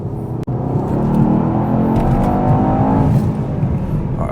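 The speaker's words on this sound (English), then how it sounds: "once you mash the throttle, it goes like this." A Mercedes-AMG E63s (W213) accelerates hard at full throttle, its engine note a loud, steady roar that climbs in pitch over several seconds after a brief click at the start.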